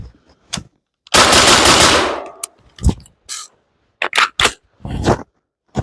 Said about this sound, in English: I'm going to shoot these 5 rounds at a pretty quick pace